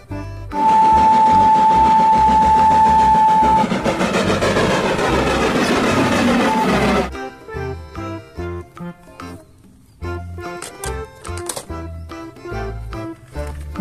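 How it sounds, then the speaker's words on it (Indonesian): A Thomas the Tank Engine toy train clatters steadily and loudly for several seconds, then quieter mechanical clicks and whirring continue intermittently. "lihat teman-teman, ada kereta api Thomas"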